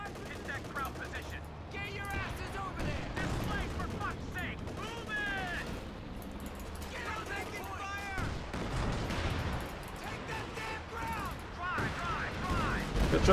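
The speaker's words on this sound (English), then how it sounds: "We also got Katusha, now's a good time to fire him." Katyusha rocket artillery and gunfire in the World War II strategy game Company of Heroes 2, a dense continuous clatter of shots and rumbling fire under a voice.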